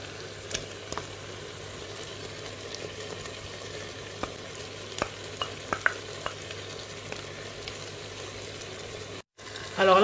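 A spoon stirs tomato paste thinned with boiling water in a pan, scraping faintly over a steady sizzle with scattered small clicks, close by and fairly quiet.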